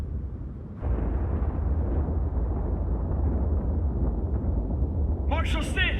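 A massive Ultima bomb explosion in Final Fantasy Type-0 erupts as a sudden deep roar, then rumbles on as a sustained loud low blast; a voice speaks over the tail end.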